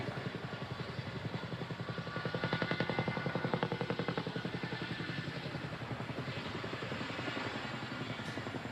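An RAF Chinook twin-rotor helicopter departs after its display, a loud, steady rapid rotor chop with a heavy engine drone that holds nearly constant throughout.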